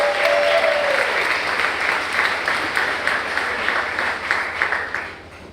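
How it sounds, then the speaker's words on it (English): Applause from a crowd at a hackathon conference, full and sustained at first, then gradually thinning and fading toward the end. "So give yourselves a round of applause."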